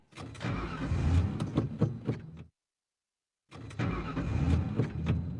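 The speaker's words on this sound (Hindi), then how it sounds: "ये गाड़ी क्यों नहीं स्टार्ट हो रही है?" A car engine cranks repeatedly with a rough, churning whir that never catches, then stops for about a second and starts cranking again, close and alone.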